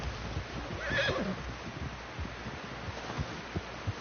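A horse whinnies once in the game Red Dead Redemption 2, fairly close, followed by soft thuds and low rumbling background.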